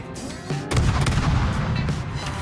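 Naval gunfire from World of Warships, a dense rolling volley of heavy cannon booms and impacts that swells suddenly and keeps rumbling loudly for the remaining seconds, with no voices.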